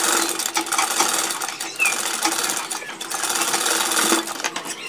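A sewing machine stitching the collar onto a kurta, a fast steady mechanical whir and rapid needle clatter running close and continuous, with brief pauses.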